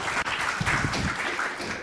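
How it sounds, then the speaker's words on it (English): Short burst of audience applause after a lecture on decay prevention, a continuous wash of clapping heard alone. "Let's give Anthony one more round of applause"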